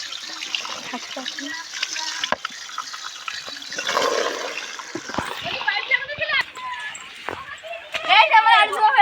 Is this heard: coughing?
no